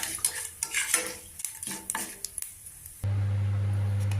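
Mustard seeds spluttering and popping in hot oil while tempering for a coconut mint chutney, with irregular crackles and stirring clatter over about three seconds, then a steady low hum.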